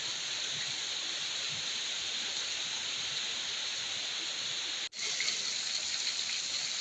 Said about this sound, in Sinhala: වැස්ස නම් ටිකක් වැඩි